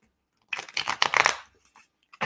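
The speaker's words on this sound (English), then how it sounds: "One more shuffle." Tarot cards riffle in a quick crackling shuffle of about one second, close and fairly loud, with a few soft taps afterward.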